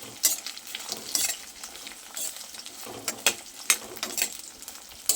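Slit okra (bhindi) frying in oil in a kadai, a steady close sizzle broken by scraping stirs and clinks of a spatula against the pan, with no talk.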